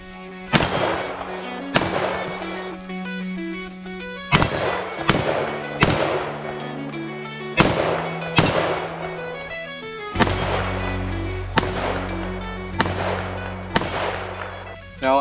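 Rifle shots are fired while testing budget red dot sights, roughly a dozen sharp, loud reports in an irregular rhythm. Some come in quick pairs, and a low rumble appears toward the end.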